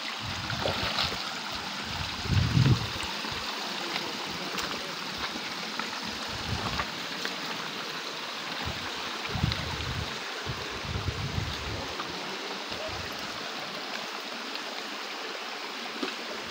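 A small river runs past a campsite, a continuous broadband rush of flowing water with occasional low gusts of wind buffeting the microphone; no one speaks.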